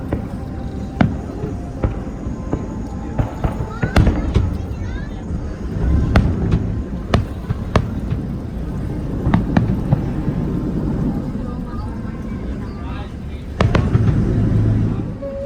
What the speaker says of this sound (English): Right where those fireworks went off.